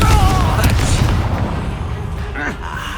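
A Confringo blasting spell bursts loudly in Hogwarts Legacy, a heavy booming explosion at the start that rumbles and fades over a few seconds, with game effects and a voice over it.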